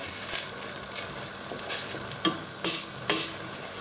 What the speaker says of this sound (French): Je vais remuer bien comme il faut.